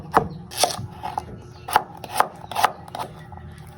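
Onion being chopped with a knife on a board, a steady series of sharp close thuds and scrapes, roughly one or two per second, with no voices.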